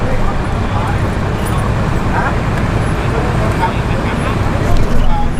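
Busy intersection traffic on a Thai highway beside a broken-down bus, a loud steady roar of passing vehicles and engines nearby, with people talking underneath.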